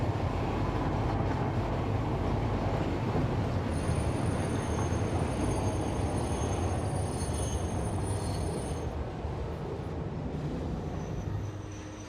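A train runs in the video game Satisfactory, giving a steady, loud, continuous rumble with a faint high metallic whine layered over it throughout.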